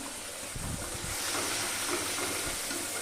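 Onion, garlic and spices frying in a pan hiss loudly as a little water is poured in, producing a dense, steady sizzle that fills the whole stretch with a few low clatters early on.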